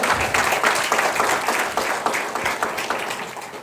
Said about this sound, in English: Can we have another huge round of applause for Dr. Roy?